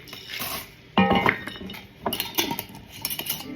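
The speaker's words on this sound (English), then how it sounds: "the rose hips, organic rose hips, I'm going to go ahead and add a good solid ½ cup" Dried organic rose hips being poured into a pot for elderberry syrup, a sudden clatter of hard little pieces striking metal, followed by lighter rattling and scraping clinks close by.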